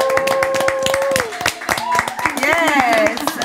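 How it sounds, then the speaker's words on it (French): A TV studio audience at a gospel-channel talk show claps and cheers loudly, with rapid close handclaps and excited whoops mixed with voices. "Est-ce qu'on peut acclamer?"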